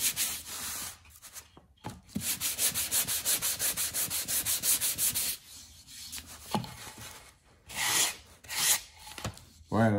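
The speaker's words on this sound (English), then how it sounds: "I'd highly recommend the Gator sanding block and the speed sheets that they have for replacement." Hand sanding of wood with a hook-and-loop sanding block gives rapid rhythmic back-and-forth rasping strokes in bursts, close and moderately loud, separated by brief pauses and a few knocks.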